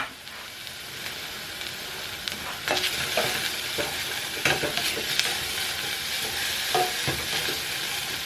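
Onions fry in a pan, a continuous bright sizzle with sporadic scrapes and clicks of stirring, steady and close, no talking.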